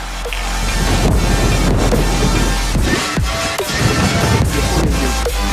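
Strong gusty wind blows across a commercial carp fishing lake on a sunny day, roaring steadily into the microphone, loud and constant with buffeting and faint water noise beneath.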